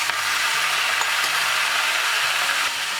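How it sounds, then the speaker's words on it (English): Chopped tomatoes go into a pan of frying garlic and ginger, producing a steady, loud sizzle and hiss close by, with faint clinks of stirring underneath. "Now it's the time to add tomatoes."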